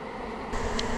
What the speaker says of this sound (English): those girls right there are reorienting the airborne bees to move into the box